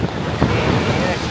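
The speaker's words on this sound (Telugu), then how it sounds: "సన్ రైజ్ అయ్యే కొద్దీ అలలు ఎక్కువ అవుతున్నట్టున్నాయిరా" Ocean surf on a Mumbai beach at sunrise, a steady broadband wash of breaking waves mixed with wind buffeting the microphone, continuous and fairly loud throughout with no talk.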